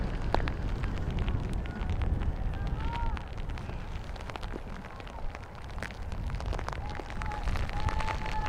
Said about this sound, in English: It's a cold rain too.